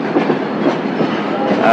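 Steady rumbling rush of a train rolling along the tracks at about 120 km/h, heard up close and loud from the train roof, with a continuous clatter and a faint squeal near the end.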